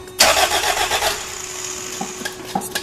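A 1980 Honda Accord with a Weber carburetor, electric choke not yet connected, cranks briefly, then catches and settles into a steady idle with a few blips of revving, loud and close with no talk.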